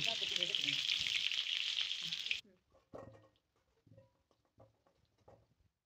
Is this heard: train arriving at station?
no